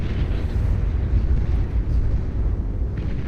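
Heavy torpedo explosions strike naval units in the real-time strategy game Beyond All Reason, a loud continuous rumbling blast that swells and rolls for several seconds with no voice over it.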